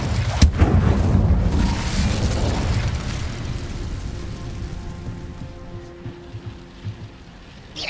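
Incendio fire spell cast in Hogwarts Legacy on Xbox Series, a loud fiery burst and boom at the start that rumbles and fades over several seconds.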